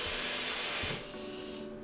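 Vacuum suction gripper on a bin picking robot, a steady machine hiss with a whirring hum and a brief sharp burst midway, then a slightly quieter continued whir.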